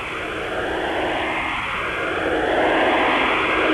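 Two airliners from Tehran taxi on the tarmac at Algiers airport after landing, a steady, broad engine roar and whine that holds at a constant loudness with no voices.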